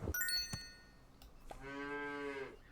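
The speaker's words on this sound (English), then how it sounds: "A cow." A cartoon cow moos once in the Super Auto Pets video game, a drawn-out, tonal low call lasting about a second, preceded by a few short game chimes and clicks.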